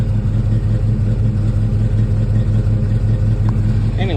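A Chevy squarebody truck with a 305 V8 idles steadily and smoothly, a low, even rumbling pulse that stays close and constant throughout, with no talk over it.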